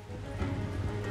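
Horse hooves clopping in the video game Red Dead Redemption 2 as a herd moves along, a brief run of soft, rapid hoofbeats over a low background hum.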